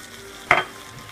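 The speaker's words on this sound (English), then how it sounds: "So just give it a little bit of a stir." A single quick stir of a beans-on-toast sauce in a pot, with maple syrup, molasses and cider vinegar just added; one short, close scraping swish in an otherwise quiet kitchen.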